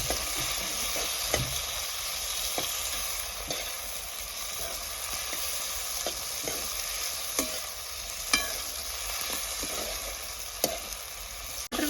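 Chopped tomatoes fry in a pan over a chulha, with a constant close sizzle and regular scraping taps from stirring, and no one speaking.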